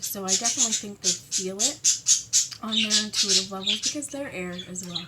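Pet birds squawk loudly and repeatedly indoors, harsh rhythmic calls nearly nonstop and close to the microphone, overlapping a person speaking steadily beneath them.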